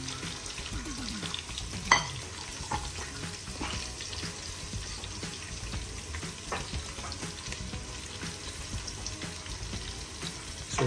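Ginger and onion frying in a pan for a chicken adobo with liver and gizzard, a soft steady sizzle broken by scraping stirs and occasional clinks, close and moderate, with no talking.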